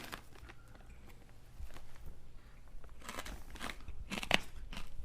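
Someone chews a mouthful of crunchy homemade crystal malt grain, with irregular close crunches and crackles that grow louder and sharper toward the end, with no talking.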